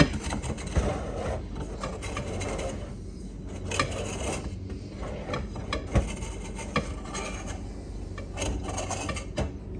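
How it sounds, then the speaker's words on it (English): A knife rasps and scrapes around the outside edge of a cooled retro Coke cake in its pan. The rubbing runs steadily for several seconds, with small knocks along the way, and no one speaks. "We're actually going to take a knife and run it along the outside edge."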